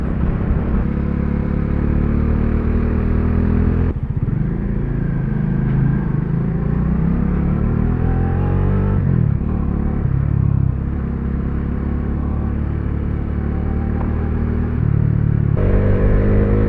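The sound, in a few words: motorcycle engine passing, stock muffler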